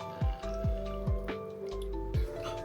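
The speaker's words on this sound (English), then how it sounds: "Water squirting up from here." Water squirts from the flavour-pod mouthpiece of an Air Up bottle in four or five quick, wet squishing spurts with drippy gurgles between them, close and fairly quiet.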